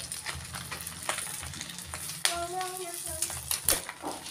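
Rice is stir-fried with fish roe, onion and chili in a pan, making a soft, steady sizzle with intermittent stirring scrapes and clicks; a brief voice or tone rises midway.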